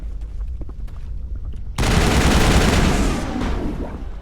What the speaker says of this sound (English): I have my assault rifle, which helps.